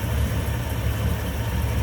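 A 1961 Chevrolet Impala with a 348 Tri-Power V8 idling smoothly, a close, steady low rumble with an even pulsing throb and no voices.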